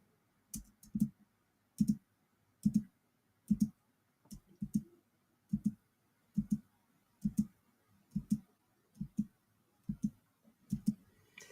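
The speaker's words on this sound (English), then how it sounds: "you're just hearing this clicking" Repeated computer mouse clicks at a steady pace, about one per second, crisp and close, with some clicks doubled, alone in an otherwise quiet room.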